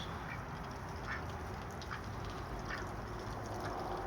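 Ducks that are being fed corn quack faintly at a distance, with a few short nasal calls scattered over a steady outdoor background hiss.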